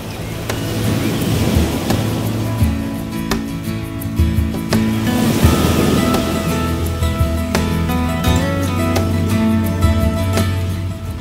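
Sea waves roll in at Puri beach, where bathers are in the water. The surf makes a loud, continuous wash mixed with wind buffeting, and steady low droning tones run underneath.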